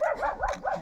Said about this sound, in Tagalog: May mga iro kasi kami dito.